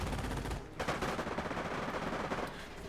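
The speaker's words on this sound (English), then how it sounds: "Incoming enemy fire!" Machine-gun fire in Company of Heroes, a loud continuous rattle of rapid shots with a slight break early on, close and dominating without any talk.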